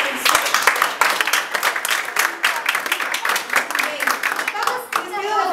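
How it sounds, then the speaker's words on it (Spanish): Audience applause at a talk on school inclusion for autistic children, dense hand clapping from a crowd filling the whole stretch at steady strength, with a few voices mixed in. "Nos damos una aplauso."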